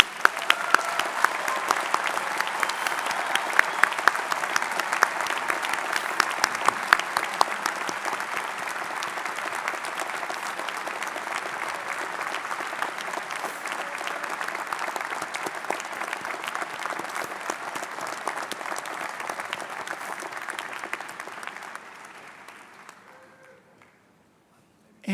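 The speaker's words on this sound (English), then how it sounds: "Now let's give them a round of applause." A large audience at a graduate and medical school commencement ceremony breaks into sustained, dense applause that holds steady for around twenty seconds before tapering off into quiet at the end.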